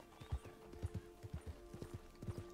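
A thoroughbred horse in Red Dead Redemption 2, a white-socked mare with a star, clip-clops along at an even walking pace, the hoofbeats soft, distinct and fairly close with nothing else over them.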